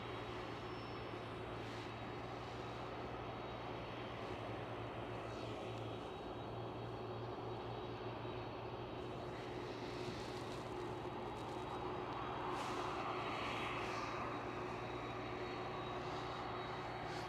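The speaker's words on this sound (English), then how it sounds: "That EasyJet flight your parents are on." An EasyJet passenger jet passes over Schiphol airport in Amsterdam as a steady, broad engine roar that holds throughout and swells slightly toward the end, alone with no talk.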